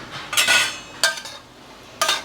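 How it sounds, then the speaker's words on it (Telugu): Onions frying in a pan for egg pulusu, with three loud bursts of scraping and sizzling noise as they are stirred, separated by quieter gaps. "ఉల్లిపాయ ఎట్లా వేగుతుందో చూద్దాం"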